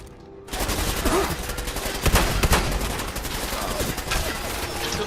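Loud, rapid double-barrel shotgun fire in Fallout 4 erupts in a dense barrage of booming shots, with a brief quiet lead-in and a chaotic combat din throughout.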